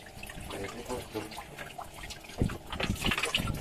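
Water poured into the block of a Yamaha 40 hp outboard engine to check for a leak, a gurgling, splashing trickle close to the microphone, loudest in the final second.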